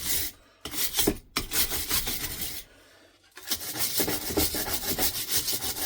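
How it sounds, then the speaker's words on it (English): A drill spins a long-bristled wire brush against a Crossley 1040 engine head, scrubbing with a harsh, rhythmic rasp. The sound comes in close bursts with brief pauses between passes. "I'll put my drill on top of my wire brush"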